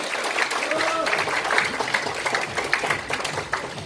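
Warm applause rises at a gathering of a social group's regular meeting, steady clapping running throughout while an announcer keeps talking over it.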